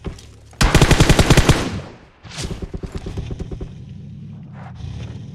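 Automatic gunfire rattles in PUBG Mobile: a loud, rapid burst of shots, a short pause, then a second fainter volley of rhythmic rounds, followed by quieter background noise.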